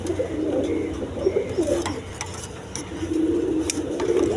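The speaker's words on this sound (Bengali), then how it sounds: "একদম বিগ সাইজের কালারিং গোল্লা কবুতর" Big-sized coloured gola pigeons coo in low, throaty repeated calls, close and clear over a steady background hum, with several birds overlapping.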